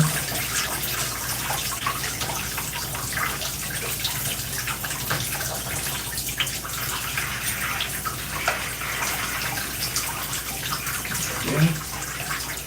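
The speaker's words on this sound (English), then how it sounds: "So now, let's go ahead and rinse Ryan." Water running steadily from a tap as it rinses a hair tool during a wash routine, a continuous close splashing hiss with small drips and shifts, alone with no talk.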